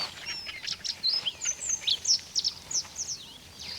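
Vultures descending on a wild dog kill give rapid, high squealing calls that overlap in a busy, moderately distant chorus.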